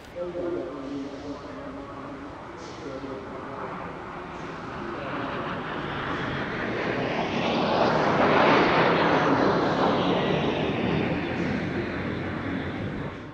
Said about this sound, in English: this is the last Sea Vixen still flying